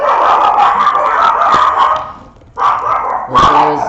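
Several neighbouring dogs bark and yip continuously from nearby outdoors, loud overlapping barks with a brief lull before another burst, heard alone without speech.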